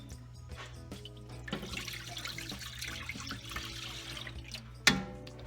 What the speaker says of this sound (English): Add your 6 cups of grape juice first.